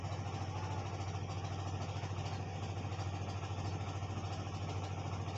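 A large river cargo ship of the kind that hauls cement or sand runs its engine steadily, a constant low idling drone with a faint clatter, continuous and unchanging throughout with no voices.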